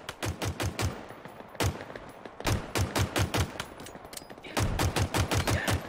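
Pistol gunfire in the Halo Infinite video game: bursts of rapid, punchy shots fired in quick clusters, loud and close, separated by short pauses.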